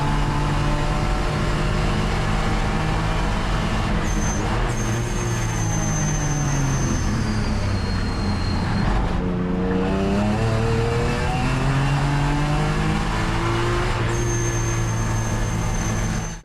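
A supercharged BMW E46 M3 lapping a circuit at a trackday: a loud, close engine roar rises and falls through repeated upshifts and downshifts, droning steadily throughout.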